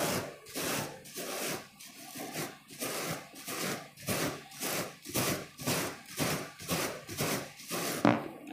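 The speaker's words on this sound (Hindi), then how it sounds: "मेरा हेड है थोड़ा सा रफ सरफेस है इसलिए इसको हम इस पर रब करेंगे" Rubber balloon rubbed back and forth on a person's head with slightly rough hair, a rhythmic series of about a dozen close, squeaky rubbing strokes at a steady pace.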